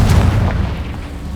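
A deep, booming blast from the Confringo spell in the Hogwarts Legacy video game, a single loud low-pitched explosion that rumbles and fades over about a second.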